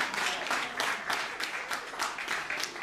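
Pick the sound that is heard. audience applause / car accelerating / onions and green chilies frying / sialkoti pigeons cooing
audience applause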